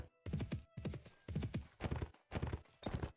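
Horse hooves clip-clop in steady bursts in Mount & Blade (Floris Expanded), a rider moving on horseback across open ground, loud and close, with no talk over them.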